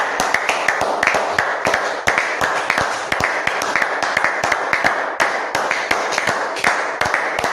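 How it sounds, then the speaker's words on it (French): Congregation at a church service clapping steadily in a brisk, even rhythm, crisp hand claps continuing alone throughout. "Applaudissons pour le Seigneur Jésus"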